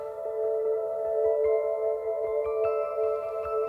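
Synthesizer bell tones patch in Logic, held steady pitched tones with soft repeated ticking attacks and occasional higher bell notes entering, sounding alone and fairly close.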